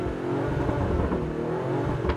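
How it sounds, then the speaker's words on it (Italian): Exhaust roar from a Sacs Strider 11 ABT Sportmaster boat engine at Marina di Varazze: a steady, loud, dense engine drone with a throaty rumble, holding level throughout without a break. "non vi faremo neppure sentire il rombo degli scarichi"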